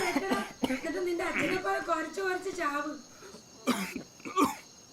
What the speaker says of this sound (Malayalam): എന്താളിയാ ഭയങ്കര ചുമയാണല്ലോ